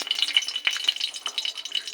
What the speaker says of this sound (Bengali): কড়াইতে তেল দিয়ে দিয়েছি, তেল গরমও হয়ে গেছে। এবার দেব শুকনো লঙ্কা ফোড়ন